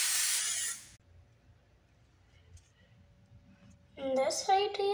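A short burst of sticky eyebrow spray hisses steadily for about a second, then quiet follows before a voice starts talking.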